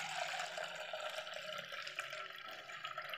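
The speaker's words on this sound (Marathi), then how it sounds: "आणखी 1-2 पाण्याने याला स्वच्छ धुवून घेऊ" Water running and splashing as soaked pulses are rinsed, a soft, close trickle and slosh that continues quietly throughout.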